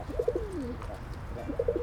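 Pigeons coo nearby in two soft, throaty bursts of rolling notes separated by a brief pause, over a low background murmur.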